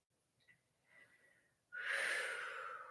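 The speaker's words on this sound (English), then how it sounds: "Working with the breathing there." Breathing during a Pilates exercise for the thoracic spine: a few soft, faint breaths followed by a long, loud, close exhale that rushes out and holds for about a second.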